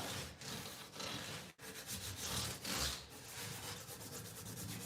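Abrasive paper rubbing steadily over the metal frets on a new guitar neck, a close, continuous scratchy hiss with brief pauses between strokes.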